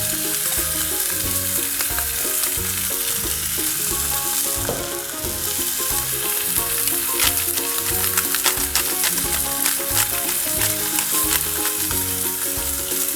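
Steady, loud sizzling of meat frying in a hot pan, continuous crackle and hiss with no talking.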